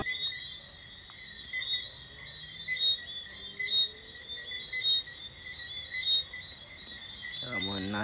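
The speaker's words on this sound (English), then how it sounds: "I can hear the crickets and everything in the background" Crickets chirp at night along a street in Jamaica where food is cooked in a yard, a steady high shrill trill running throughout with some faint background activity and a brief bump near the end.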